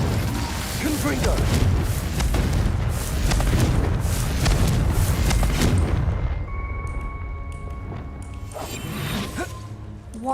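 Confringo fire spell in Hogwarts Legacy bursts with a heavy, booming blast and rumbling roar that fills the first six seconds, then fades to a quieter hum with faint tones and softer thuds.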